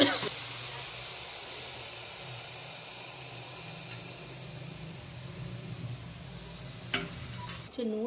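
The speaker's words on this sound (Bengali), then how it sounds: "আর কুচানো পালং শাকগুলো আমি দিয়ে দিচ্ছি।" Chopped spinach and chickpea greens cooking in a pan, a soft steady sizzle and hiss with a few stirring scrapes, moderately quiet and close, ending with a brief sharper clatter.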